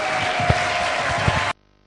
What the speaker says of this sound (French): Applaudissons fort.